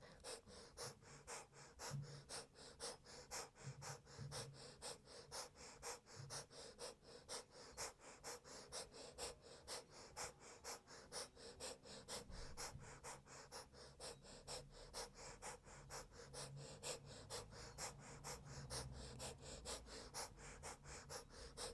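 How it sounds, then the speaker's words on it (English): Rapid, rhythmic yogic breath of fire during a Kundalini class, quick forceful nasal exhalations repeating evenly at roughly two per second, soft and close, continuing without pause and with no talking. "relax the face while you're doing the breath of fire"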